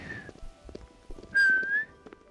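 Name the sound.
person whistling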